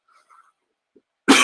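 A single sharp cough bursts out near the end after near silence, loud and close, preceded by faint breathy sounds.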